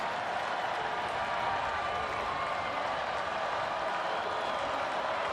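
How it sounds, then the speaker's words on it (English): A homecoming college football crowd at an Ohio Bobcats home game against Northern Illinois roars on third and long, a dense continuous stadium wash of cheering with scattered clapping, distant and steady throughout. "The homecoming crowd comes to life on 3rd and long."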